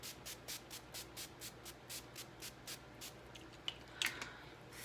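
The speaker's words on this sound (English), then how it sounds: "Let's go ahead and lock this baby in place with my NYX Dewy Finish Setting Spray" NYX Dewy Finish setting spray misted onto a face: a series of about a dozen short, evenly spaced soft hissing spritzes, close and quiet, followed by a few faint taps.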